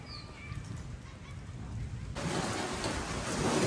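Rain falls in a steady hiss that abruptly intensifies partway through as strong wind gusts pick up, a broad roaring wash close by.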